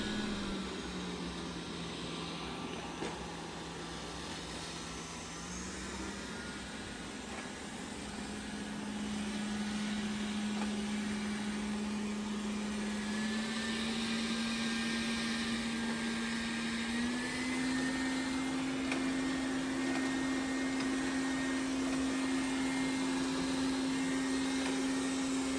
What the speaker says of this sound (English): a quick sample of different levels of suction power and you can hear the difference